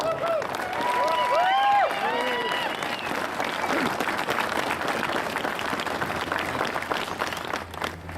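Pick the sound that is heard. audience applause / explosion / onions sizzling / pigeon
audience applause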